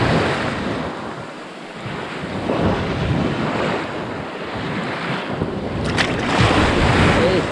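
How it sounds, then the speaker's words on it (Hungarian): Ocean waves rolling and breaking on a Greek beach at Stavros, a steady loud wash of surf with a swell building near the end, mixed with wind buffeting the microphone and no talking. "így szél nélkül ezek a hullámok, ezek még azt is verik élvezetben"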